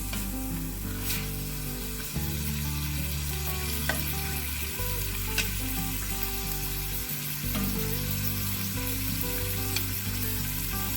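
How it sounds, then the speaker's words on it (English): Onions caramelize in a pan for Midwestern goulash, giving a continuous, even sizzle and crackle at close range with an occasional light stir, alone and without talk. "caramelizing is really just cooking onions until they're translucent and aromatic"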